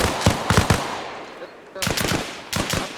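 PKM machine gun in the video game Arma Reforger fires three loud, sharp bursts of rapid automatic rounds, separated by short pauses.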